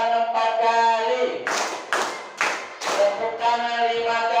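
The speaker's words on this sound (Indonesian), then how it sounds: "Tepuk tangan 4 kali." Schoolchildren in a fourth-grade Islamic jurisprudence class clap four times together, crisp evenly spaced group claps framed by an adult voice speaking before and after.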